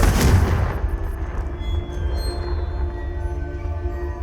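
A heavy, booming Confringo spell explosion in Hogwarts Legacy, with a loud blast at the start followed by a long rumbling tail that fades under ongoing game ambience.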